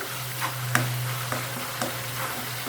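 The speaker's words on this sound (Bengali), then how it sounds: "এখন আমি একটা ডাকনা দিয়ে মশলাটা কষিয়ে নিচ্ছি" Masala spice paste frying in oil for a fish bhuna, covered with a lid, giving a steady low sizzle with a soft hum and a few light taps of a utensil at intervals, close and even throughout.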